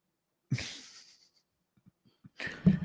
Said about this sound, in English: I had a sneeze and couldn't turn off my camera.